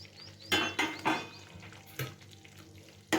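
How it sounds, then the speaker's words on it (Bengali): Soaked pointed gourd pieces drop into a pot of boiling gravy for potol kalia, several sharp splashy sizzles and clatters in quick bursts, close and fairly soft, with quieter bubbling between them and no talking. "এবার ভিজিয়ে রাখা পটলগুলোকে আমি এর মধ্যে দিয়ে দিচ্ছি।"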